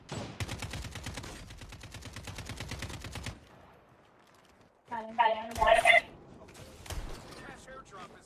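Shotgun fire in the mobile game Call of Duty Mobile: a rapid string of loud shots, then a pause and a few separate blasts, with a voice talking over part of it.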